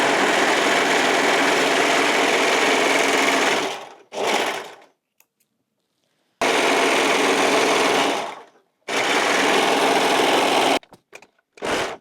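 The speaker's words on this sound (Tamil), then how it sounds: "ஸோ இப்போ நான் ஓவர்லாக் பண்ண போகிறேன்." Overlock sewing machine stitching fabric, loud close whirring runs in three bursts with short silent pauses between them, ending in a few quick stops and starts, no talking.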